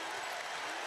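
Basketball arena crowd at a tight Tennessee versus Arkansas college game applauding in a dense, steady roar of clapping and cheering that fills the whole moment, with no pause.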